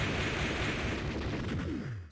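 A smart bomb detonates in a video game with a broad, roaring blast that sustains for about two seconds, then a falling sweep tails off and a sharp click ends it.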